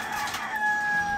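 Turkeys roaming on a rooftop give a short, clear, sustained bird call over faint outdoor background, with no one talking.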